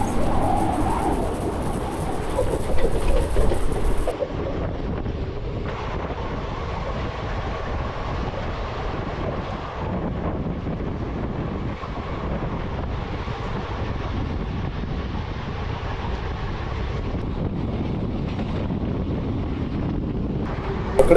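A moving train on the Bhimavaram to Nagarsol route, heard from inside a sleeper coach: a steady, loud rolling rumble with wind buffeting that holds evenly throughout without a pause.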